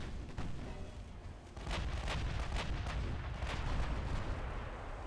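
Naval gunfire in the warship game Ultimate Admiral Dreadnoughts: repeated deep booming salvos from ship guns, loud and close, with heavy continuous rumble and no talk.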